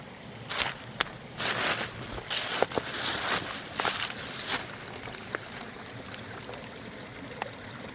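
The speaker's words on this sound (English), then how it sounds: "It's at least like 7 small waterfalls." Small waterfalls fed by a spring on a mountainside splash and trickle steadily outdoors, with a few nearby footsteps and rustles over the running water.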